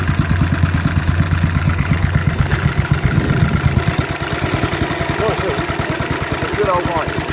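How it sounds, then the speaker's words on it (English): A 1928 Sunbeam Model 6 500cc motorcycle engine idles with a steady, rapid chugging pulse, close by, with a brief revving swell partway through and faint clatter underneath. "Ride the motorbike."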